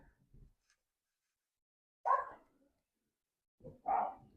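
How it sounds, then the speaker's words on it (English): A dog barks a few times in short, separate bursts with silence between them, faint and somewhat distant. "So if you hear dogs barking, you'll know that's why."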